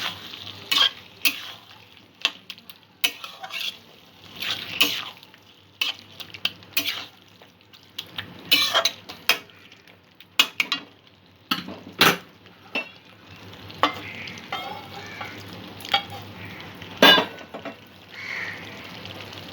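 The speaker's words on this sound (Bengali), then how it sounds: "সর্ষে বাটা দিয়ে তরকারিটা 2-3 মিনিট আমি ফুটিয়ে নেব।" Pointed gourd curry cooking with mustard paste and a little water, bubbling softly while a metal spoon scrapes and clanks against the pan in irregular bursts, close and fairly loud, separated by quiet pauses.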